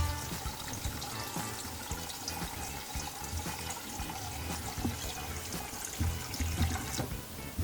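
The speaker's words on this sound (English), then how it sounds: "You want to fill the pot up" Steady running water pours into a pot, a continuous splashing rush with faint clinks, close by and alone without any talking.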